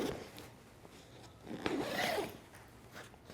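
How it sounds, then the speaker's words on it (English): Dual expansion zippers being pulled open on a Peak Design Travel Backpack 45L, a quiet run of zipping and fabric rustle with one longer, brighter pull in the middle. "These dual expansion zips expand the front of the bag and give you 10 liters of additional space."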